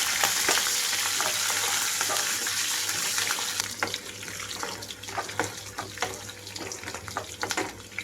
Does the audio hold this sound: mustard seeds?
yes